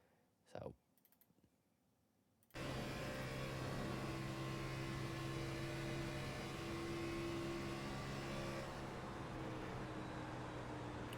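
A NASCAR Xfinity car in the iRacing sim at Michigan, its engine droning steadily at partial throttle after a brief quiet start, a loud continuous hum with no talk over it.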